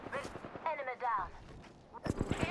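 Apex Legends gunfire cracks out in short, loud bursts of a few shots, separated by a stretch of speech in the middle of the clip.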